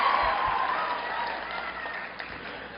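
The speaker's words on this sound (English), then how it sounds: "please give me claps for this new word that I've taught Yale" An audience at Yale claps steadily, a moderately loud, even wash of applause from a full hall that fades slightly toward the end.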